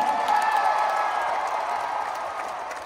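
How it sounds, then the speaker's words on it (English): A concert audience at a show in Des Moines claps and cheers in a dense, sustained wash of applause that stays loud and steady, easing only slightly toward the end. "big round of applause for Ben!"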